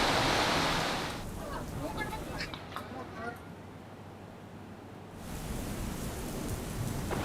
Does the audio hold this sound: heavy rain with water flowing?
yes